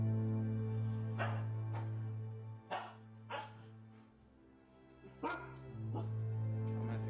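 Several dogs bark in short bursts indoors in a room, sharp yips popping over a steady low hum and background sound, loud and close.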